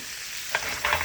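Shrimp frying in a pan with blackened seasoning, a loud steady close-up sizzle with a couple of brief bursts of stirring or spattering, and no voices.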